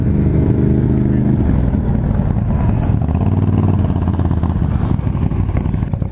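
An ATV quad engine runs loud and close with a steady throaty drone, its pitch shifting slightly as it revs, while voices talk faintly underneath.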